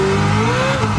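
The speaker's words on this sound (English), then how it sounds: "hitting the rev limiter a little bit" The Red Devil Camaro race car, kept in second gear, holds its engine at the rev limiter, a loud, sustained buzzing drone with a slightly wavering pitch, close by and with no voices.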